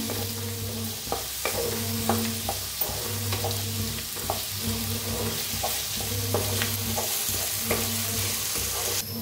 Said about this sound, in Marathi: आता घेतलेत बघा इथं कोथिंबीरच्या कवळ्या काड्या आणि कोथिंबीर बी आहे, तर ती बी भाजून घेऊया